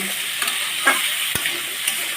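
Potato, pumpkin and carrot pieces fry in a pan with a steady, close, loud sizzle and occasional stirring knocks, with no voices.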